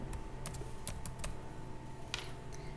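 Fingers tap out a short word on a computer keyboard, a quick irregular run of soft, close keystrokes over a faint steady room hum, with no speech.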